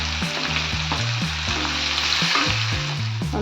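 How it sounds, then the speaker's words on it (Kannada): Sliced onion, ginger and green chillies fry in hot oil with curry leaves for prawn manchurian, giving a steady, close sizzle throughout with some stirring sounds, and no talking. "ಸ್ವಲ್ಪ ಫ್ರೈ ಆಗಲಿ, ಜಾಸ್ತಿ ಏನು ಬೇಡ."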